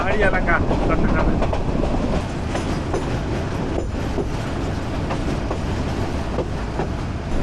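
Train running on rails between Chittagong and Sitakunda in the hilly Chittagong area of Bangladesh, heard from inside a passenger coach as a steady loud rumble with faint clickety-clack from the wheels, and people talking in the background.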